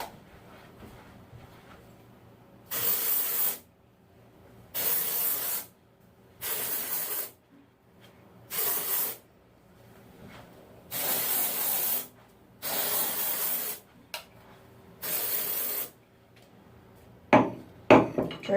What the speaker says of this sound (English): Dry shampoo is my favorite thing in the world during the work week